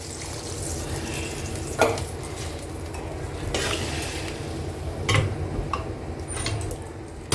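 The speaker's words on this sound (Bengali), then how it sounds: "এবার আমি জল দিয়ে দিলাম।" Chicken and potatoes in a pan after water is poured in, a dense bubbling sizzle with repeated stirring scrapes and a few sharp utensil clacks against the pot, close and steady.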